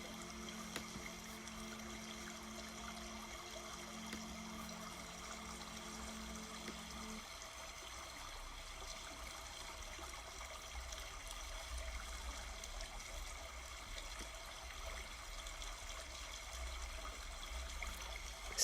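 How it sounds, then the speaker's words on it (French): Flowing river water, a steady soft wash of trickling and lapping that runs throughout, with a low tone in the first seconds that then fades out; no voices. "le clapotis de la rivière est à l'unisson avec le mantra de paix"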